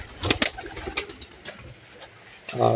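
Soft pigeon coos and rustling sounds come in short bursts, with a brief louder scuffle near the end.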